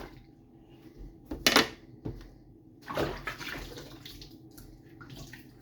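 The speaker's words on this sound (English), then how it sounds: "So, give this just a wash." A vintage toy being washed in water, with splashing, sloshing and a few sharp knocks against a basin, moderately close with quieter trickling between bursts and no talk.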